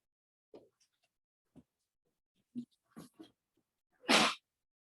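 A single loud sneeze near the end, after a few soft clicks and small noises in an otherwise quiet room.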